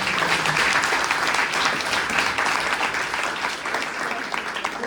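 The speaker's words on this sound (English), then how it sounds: "Let's give the panel a round of applause." An audience at a polytechnic showcase event in Ottawa gives a panel a round of applause, a dense, sustained wash of clapping from a sizeable crowd that holds for several seconds.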